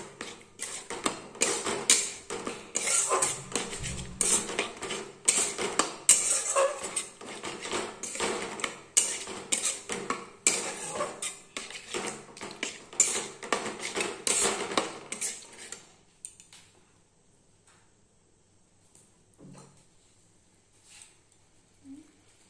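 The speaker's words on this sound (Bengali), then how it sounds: "ভালো করে নেড়ে নিয়ে" Spatula stirring chhanar kalia in a metal pan with fried cashews and raisins, giving a busy run of scraping and clinking that lasts about fifteen seconds, then dies away to faint, scattered taps.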